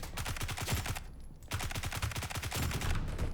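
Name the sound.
UMP gun firing in the video game BRM5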